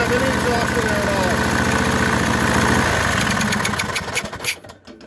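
A Briggs & Stratton small engine with a bad head gasket, blowing oil, runs steadily at idle with a rough, pulsing chug, loud and close, then falters and sputters near the end.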